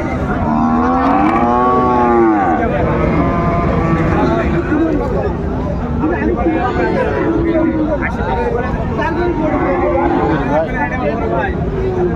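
Frisian and crossbred bull calves at a livestock market in Raniganj, Dinajpur, moo loudly and repeatedly close by, over a steady murmur of crowd chatter while someone talks.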